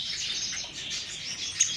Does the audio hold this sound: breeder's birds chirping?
yes